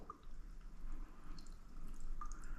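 An espresso machine's group head releases a shower of water. It sounds like a faint, steady spatter and hiss that runs the whole time, with no voices.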